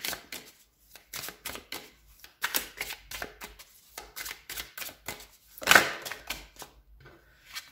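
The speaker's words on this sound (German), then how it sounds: "Ich fange jetzt einfach mal an, die Karten für dich zu mischen." Tarot cards riffled and shuffled in a quiet room, a quick series of crisp papery bursts with a brief louder flurry near the end, no voices.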